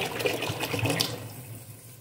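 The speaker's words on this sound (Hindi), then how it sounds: "और बॉटल पानी डालूंगी।" A bottle of water poured into a pressure cooker of cabbage and meat curry, a loud close gushing splash that tapers off as the bottle empties.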